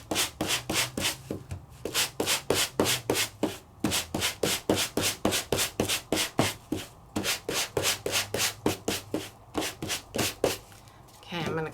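Quick back-and-forth hand sanding of a cut-and-embossed cardstock craft piece, a steady run of short, even rasping strokes close up, repeated rapidly for about eleven seconds with a brief pause near the end.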